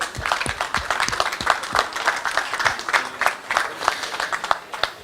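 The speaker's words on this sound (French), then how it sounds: "je souhaite qu'on vous applaudisse." A crowd at the Cupra brand launch in Tunisia applauds, producing several seconds of dense, irregular clapping with sharp individual claps standing out from the mass.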